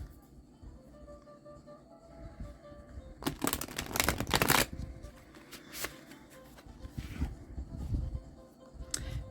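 A tarot card deck shuffled by hand in a quiet room, with a burst of rapid riffling flutters in the middle and softer shuffling rustles around it.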